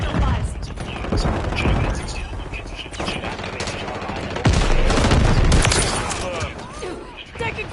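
Gunfire in Modern Warfare 3, with rapid mechanical shots and bursts running continuously at moderate loudness, mixed with in-game radio voices and a heavier burst of fire partway through.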